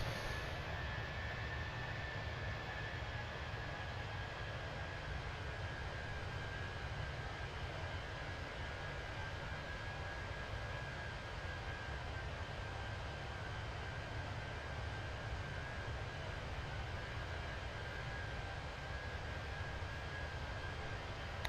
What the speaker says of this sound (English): Heard those engines settle down.